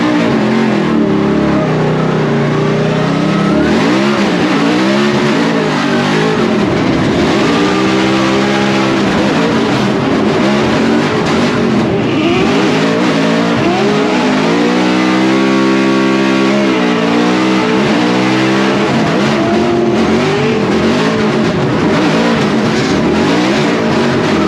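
Formula Drift car engine at the St. Louis round, revving hard and bouncing off the limiter in repeated surges during a tandem chase lap, loud and close with continuous tire and exhaust roar, no talking.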